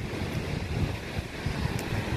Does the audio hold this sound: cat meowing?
no